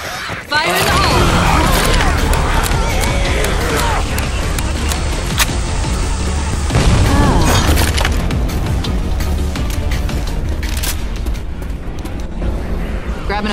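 A pipe bomb explosion in the zombie shooter Left 4 Dead 2 lands amid dense, loud combat noise, with gunfire, crashes and shouting voices throughout.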